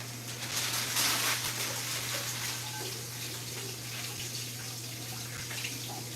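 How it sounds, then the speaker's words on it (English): Hot water runs steadily from a tap into a sink, a constant rushing stream with a low hum underneath, close and fairly quiet. "We're gonna wet these and crumble them up under hot water."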